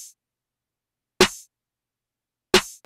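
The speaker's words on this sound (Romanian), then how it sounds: "Sunt layeruite 3 snare-uri și sunt pe bătaia clasică," Three layered snare drums hit on the classic backbeat, two sharp loud cracks about a second and a half apart with near silence between them.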